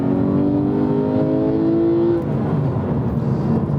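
A manual Porsche 991.2 911 GT3 engine revs hard and climbs in pitch for about two seconds, then drops off after a gear change into a lower, rougher drone, loud and close.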